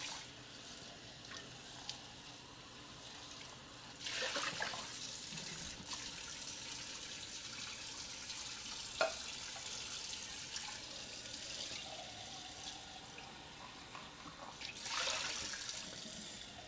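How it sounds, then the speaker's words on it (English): Tap water runs steadily into a kitchen sink while containers are rinsed during meal prep, a soft continuous stream with brief surges and clatters, close but quiet. "Rinse these out."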